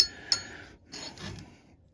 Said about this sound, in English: I'm gonna go down just a little bit, like one swipe down, and then reprofile this tooth